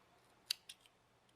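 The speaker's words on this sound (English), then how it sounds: "I'm going to snip that off." Scissors snip off a yarn end on crocheted squares with a linen border, making two quick, faint cuts close by in an otherwise quiet room.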